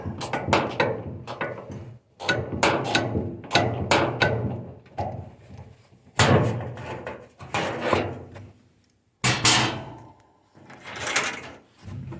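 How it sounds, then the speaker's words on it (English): A bolt being worked loose on a Maytag compact over/under washer-dryer during drum roller replacement: repeated bursts of close scraping and clunking metal, separated by short pauses, with no talk. "remove that bolt. Maybe a little hard to get started"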